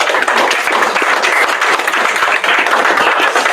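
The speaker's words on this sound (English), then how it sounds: "I think we'll give them a round of applause" Dense, steady applause from an expo audience at an architecture and design build show, many hands clapping continuously and loudly with no talk over it.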